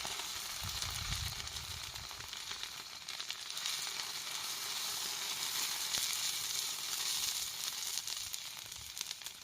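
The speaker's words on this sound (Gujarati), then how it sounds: "તેલ ગરમ થઈ ગયું તો આપણે લીલી મરચી આદુનો પેસ્ટ લીલી લસણનો પેસ્ટ" Green chili, ginger and garlic paste sizzles in hot oil for a soup, a steady loud crackling hiss with occasional stirring, no voices.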